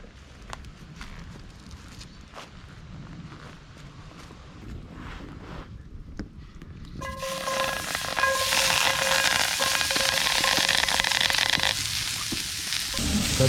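Fruit dropped into a hot cast-iron pan over a forest campfire sizzles loudly and steadily, with dense crackling pops rising sharply partway through after quieter rustling and outdoor background noise.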